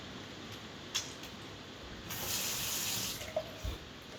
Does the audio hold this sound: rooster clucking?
no